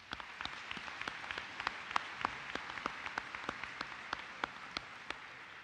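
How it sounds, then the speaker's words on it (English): Sparse, distinct hand claps at a commencement ceremony, scattered individual claps ringing out at a moderate distance over quiet room tone. "Please give him a round of applause."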